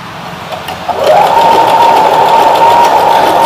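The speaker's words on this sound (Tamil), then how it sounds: "ஸோ நான் இப்போ என்ன பண்ண போகிறேன்னா ஃபுட்டர் ப்ரெஸ் பண்ணி ஸ்டிச் போட போகிறேன்." A Singer, Usha or Brother domestic sewing machine fitted with an overlock foot starts up after a quiet moment and runs an overlock stitch with a steady, close whirring hum.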